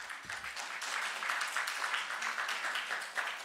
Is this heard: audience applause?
yes